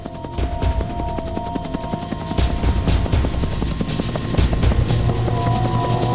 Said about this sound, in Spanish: Los helicópteros que acudieron a evacuar a la gente atrapada solo encontraron cadáveres.